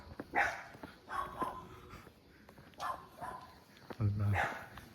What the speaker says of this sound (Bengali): ছোট কুত্তায় ভয় পাওয়াই দিল